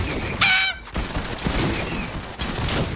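Gunfire in Fortnite, a burst of rapid shots with crackling impacts mixed with game effects and a brief tonal honk, fairly loud and close.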